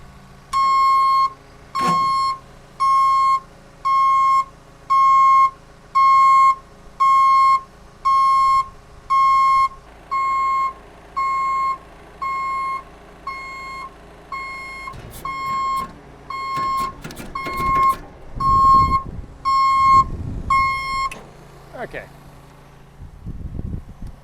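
A loud, steady series of electronic beeps repeats in a regular rhythm, then stops as hydraulic whirring, clunks and mechanical movement take over nearby as a Terex Achiever TC-55 tracked aerial lift deploys its outriggers.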